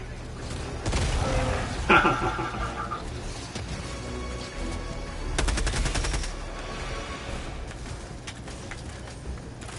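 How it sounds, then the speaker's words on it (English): In the Helldivers 2 video game, a grenade blast and sustained automatic gunfire create dense rattling volleys and rumbling bursts that continue steadily throughout. "Throwing grenade!"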